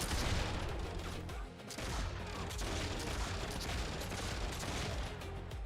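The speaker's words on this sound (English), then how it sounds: "Machine gun" Machine gun turret fire in the Warhammer Online game: a dense, continuous burst of rapid gunfire with heavy low rumble, loud and sustained throughout with only a brief dip partway through.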